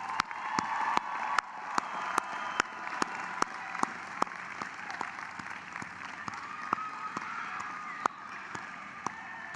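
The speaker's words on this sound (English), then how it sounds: "Graduates, please give your families and friends a warm round of applause." Audience applause at a university commencement ceremony, sparse, distinct claps ringing out steadily over a low crowd murmur.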